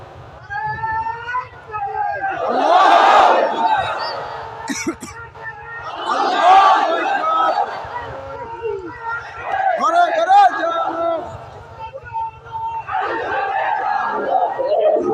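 A crowd chants the slogan Lillahi Takbir in loud, repeated waves of massed voices, several surges rising and falling over a low steady hum, with babble between the bursts.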